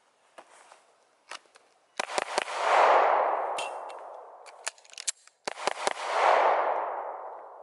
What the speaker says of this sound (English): I'll take a couple shots and then do a reload, all from concealed.